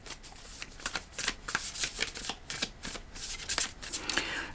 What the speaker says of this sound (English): I'm going to pull a card from the Starcodes Astro Oracle.